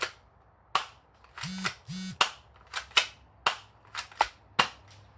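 A Beretta APX manual mag-feed gel blaster pistol fired in a series of sharp, close snapping shots at an uneven pace, about a dozen in five seconds, with a couple of mechanical buzzing whirs early on.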